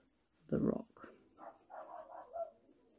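Indoor dog barking nearby, one loud bark followed by softer barks, with a person talking over it.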